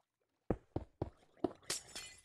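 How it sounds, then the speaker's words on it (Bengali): Glass blocks shattering in Minecraft: five sharp, close crashes in quick succession, each with a bright splintering tail, the last one longest and brightest. "কাঁচ ভাঙছে।"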